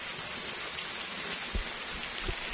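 Rain falls steadily outdoors, a soft, even hiss with occasional nearby drips and thuds, heard alone without speech.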